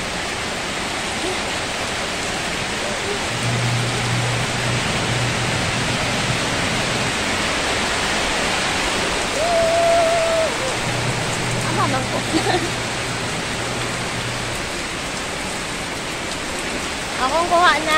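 Steady heavy rain pours on a farm, a dense hiss that lasts throughout with no break; a voice speaks briefly partway through.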